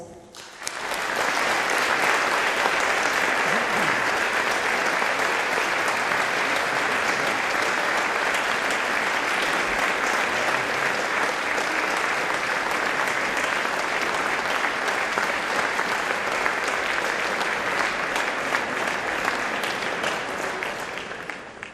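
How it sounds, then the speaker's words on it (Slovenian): An audience applauds at a Glasbena šola Brežice music school orchestra concert in 2022. Dense, even clapping swells in quickly, holds steady for about twenty seconds, then tapers off at the end. "Namenimo jim aplavz."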